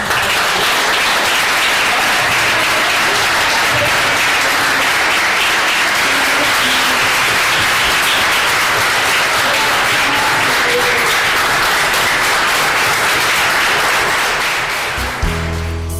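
A large church congregation applauds continuously and loudly, sustained clapping that fills the whole stretch before tapering slightly at the very end.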